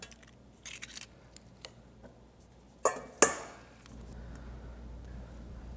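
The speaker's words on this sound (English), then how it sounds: "I've got 6 eggs that we'll go ahead and crack." Six raw eggs cracked one after another for a smoked egg bake, sharp shell taps and cracks, with two loud distinct cracks standing out among quieter clicks and handling noises, followed by a low steady background hum.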